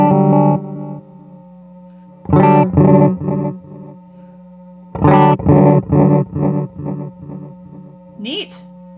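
An electric guitar played through a Walrus Audio Mako Series D1 delay pedal, with short bursts of strummed chords and repeating echoes trailing off between them, ending in a rising swell of pitch-shifting delay.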